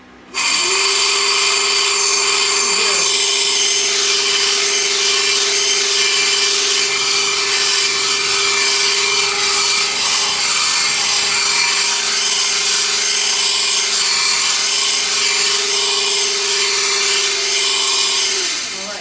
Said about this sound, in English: when you activate this, I can now clean and ream the whole inside of the pipe